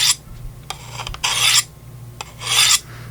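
A Condor Pictus knife being sharpened, with two long rasping strokes and a few short scrapes against a quiet low hum, close and loud, with no talking.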